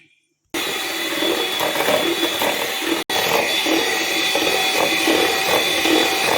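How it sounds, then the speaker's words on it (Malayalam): Sugar and sunflower oil being beaten for an eggless vanilla cupcake batter, likely with an electric mixer, giving a steady loud whirring, grinding drone. It starts after a short silence and breaks off briefly once. "കുറച്ച് സൺഫ്ലവർ ഓയിൽ ഒഴിച്ച് കൊടുത്തിട്ട് ഒന്ന് ഒന്ന് അടിച്ചു കൊടുക്കാം"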